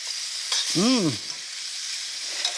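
Zucchini cooks in a pan with anchovies, garlic and capers, giving a soft, steady sizzle close by, broken once by a short rising-and-falling squeak.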